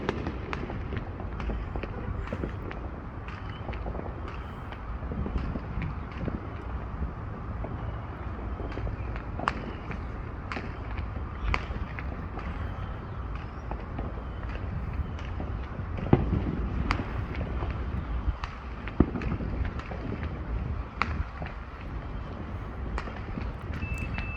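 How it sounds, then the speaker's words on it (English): Small fireworks go off during a July 4th celebration in Katy, Texas, heard as scattered distant pops and crackles over a steady rumbling background with no talking. "So they're shooting little mini fireworks I can see"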